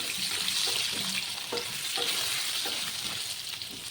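Potatoes sizzling in hot oil with salt and turmeric, a steady moderate hiss with soft scraping stirs of a spatula repeating through.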